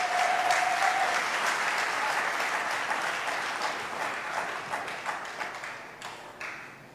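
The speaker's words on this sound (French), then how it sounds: "Il faut applaudir ça." Crowd applause at an Ivorian political gathering, steady and fairly distant, starting full and gradually tapering off into scattered claps by the end.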